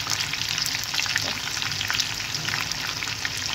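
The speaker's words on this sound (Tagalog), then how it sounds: "Ganyan na mag-fry ng pakwa, dapat mainit yung mantika" Pieces of tofu fry in hot oil with a steady, dense crackling sizzle, close and even throughout with small pops and spatters.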